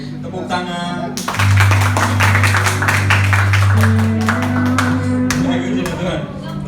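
A church congregation at a Sunday service claps in a dense, continuous burst, with a sustained low organ or keyboard tone and music underneath.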